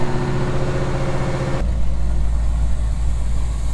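A 1962 Chevy truck engine runs with a steady, even idle, then the tone shifts to a lower, smoother hum partway through, with no speech.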